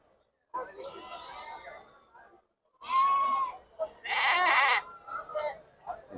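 Lambs and sheep bleat at a busy Tuesday sheep market in Sira, with loud overlapping cries close by, broken by short pauses and mixed with people talking.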